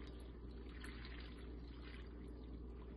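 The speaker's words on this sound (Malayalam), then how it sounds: "ഇനി വെള്ളം, 2 കപ്പ് വെള്ളം അളന്നെടുത്തതാണ്." Water poured from a measuring cup into a pan of Kerala-style spinach curry, a steady, close and continuous pouring rush that runs the whole time with no talking.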